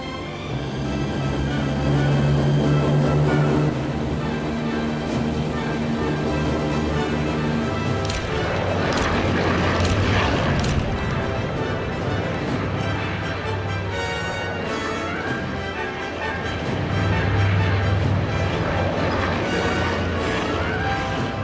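WWII-era bomber engines roaring during takeoff, a dense, loud, steady drone that keeps up throughout and is joined by rattling and surging engine noise midway.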